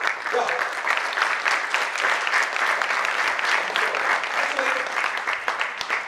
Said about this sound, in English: But thanks a lot for the clap.